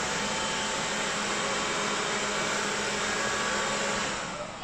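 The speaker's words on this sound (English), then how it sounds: "Got it. Stopping the vacuum." A steady, loud whirring hum of a robot vacuum cleaner running continuously in a smart home, fading slightly at the very end.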